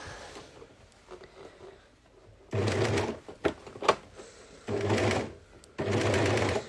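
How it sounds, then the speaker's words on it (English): A sewing machine runs a gathering stitch along dress fabric, with tulle overlay work nearby: three loud, steady bursts of whirring stitching separated by pauses, close up, with soft clicks and handling noise between runs and no voices. "I'm going to sew all the way to about 1 inch on the other side."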